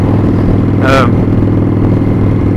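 A 1997 Harley-Davidson Springer Softail rumbles steadily and loud on a ride, its low engine note droning throughout with wind noise, and a voice briefly cuts in.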